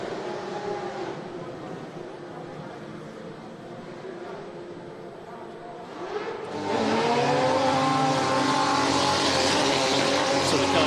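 A Superleague Formula race car waits in the pit lane at the Nurburgring during 2008 qualifying, its engine a faint background drone at first, then a louder, steady roar with a rising harmonic whine under commentary.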